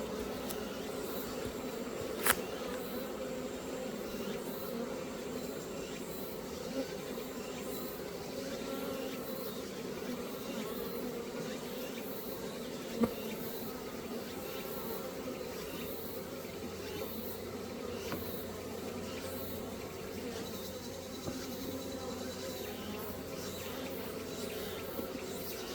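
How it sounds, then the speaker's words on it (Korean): Steady busy buzzing of honeybees at the entrance of a hive that a swarm has just moved into, continuous and close, with a couple of faint clicks and no talking. "벌이 또 하나 들어왔습니다."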